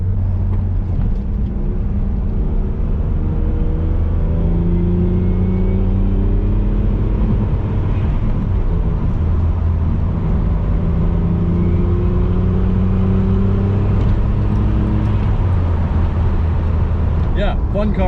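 A turbocharged Conquest car accelerating while driving, its engine tone climbing steadily in pitch through repeated pulls, with a steady rumble of road and cabin noise throughout.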